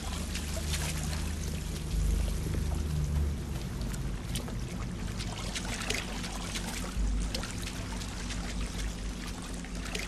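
A character wades through deep water in The Sinking City, a steady churning slosh and trickle that carries on for the whole stretch, loud and close, with no talk.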